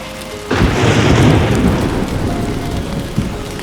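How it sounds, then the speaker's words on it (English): Heavy rain with rumbling thunder during a bike ride, a loud sudden downpour roar that swells and stays dense and steady, with a low thunder rumble underneath. "Rain has actually, one or the other, interrupted my ride back."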